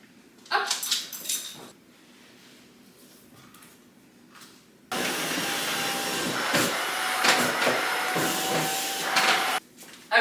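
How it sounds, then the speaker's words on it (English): Vacuum cleaner run over a new rug, starting abruptly midway and droning loudly and steadily for about five seconds before cutting off, preceded by quieter shuffling and handling noises. "I was gonna try to vacuum it to help flatten it out"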